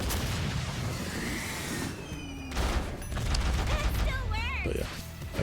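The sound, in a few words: Jinx super giant monkey cannon firing in 2XKO video game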